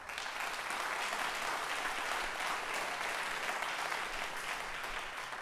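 An audience at a college talent show claps steadily and densely throughout, a sustained loud wash of applause with no break and no clear voices on top.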